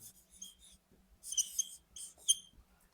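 Pen strokes scratch out letters by hand on paper in short, faint bursts, with quiet pauses between the words.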